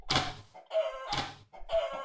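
A hen clucks and squawks in short loud bursts, two main calls with quieter clucks between, close by.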